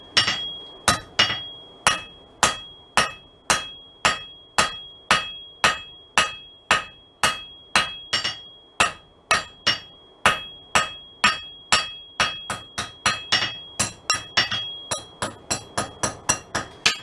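A blacksmith hammers a forged leaf on the edge of an anvil in a steady run of about forty sharp, ringing blows that speed up toward the end, loud and close with no talk.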